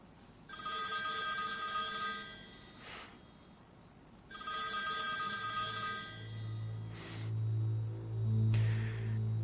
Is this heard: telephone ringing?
yes